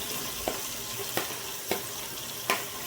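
Chopped onions and green chillies frying in a pot for one-pot dal khichdi tadka, a steady close sizzle broken by four sharp, evenly spaced scrapes or clinks of a stirring spoon.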